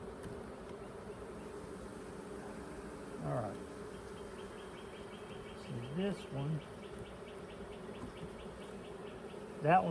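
Honey bees buzz steadily around an opened hive during a spring Demaree hive setup, a soft continuous drone with occasional closer passes, while someone speaks briefly over it.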